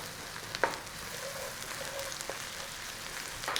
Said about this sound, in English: I'm going to throw some tomatoes in.